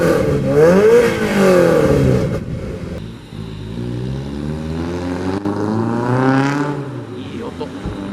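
A classic car's engine revs loudly and close by at an outdoor classic car club meeting in Azumino, rising and falling in pitch, with people talking over it.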